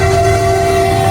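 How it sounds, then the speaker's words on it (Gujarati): A train rolls past a closed railway level crossing near a village, giving a steady, loud, continuous rumble with a sustained horn-like tone held throughout, with no voices. "ટ્રેન જતી રહી છે ને આપણે નીકળીએ છીએ."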